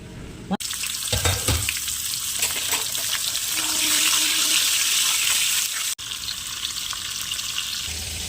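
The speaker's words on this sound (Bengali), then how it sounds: "এবারে আমি তেলে ভেজে নেব" Pointed gourds stuffed with egg, rubbed with salt and turmeric, frying in hot oil, a loud dense sizzle with spattering bursts early on and two abrupt cuts in the sound.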